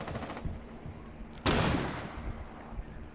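Gunfire in the tactical shooter Rainbow Six Siege: a few muffled shots, then a loud close burst of rapid fire with a long decaying tail and scattered quieter pops, no talking.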